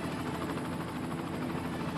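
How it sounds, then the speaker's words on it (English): A helicopter in the city-building game Cities: Skylines drones on steadily with a rhythmic rotor flutter and engine whine, loud and constant over the short stretch, with no voices. "Helicopters."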